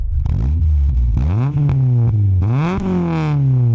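Engine of a new Honda Prelude coupe revving hard while stationary, rising and falling in several loud, close blips with strong harmonic sweeps, no talking over it.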